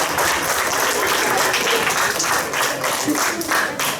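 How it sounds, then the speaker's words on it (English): An audience claps for the debate participants, a dense, even burst of applause that holds at a fairly loud level for a few seconds without letting up. "Please clap for all the participants."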